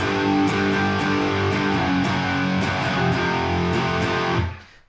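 Heavy distorted electric guitar power chords ring out, stepping down one at a time in a slow sustained line before fading out.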